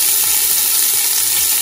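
Onions fry in a pot, in the same oil used for raisins, while Afghani mutton pulao is being made, giving a loud, constant sizzling hiss with faint stirring scrapes underneath.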